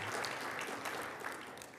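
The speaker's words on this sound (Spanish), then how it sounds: "Denle un aplauso al Señor, por favor." Sustained clapping from a church congregation, steady and fairly soft, fading slightly toward the end.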